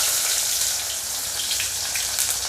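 Medium onion, finely sliced, frying lightly in hot oil for a beef brain masala, giving a steady, close hiss of sizzling with fine crackle throughout and no talking.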